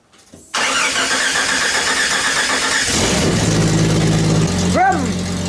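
A Jeep Renegade engine with its exhaust system removed cranks and fires up through open headers, then settles into a loud, raw, harsh idle close by, with a brief rev near the end.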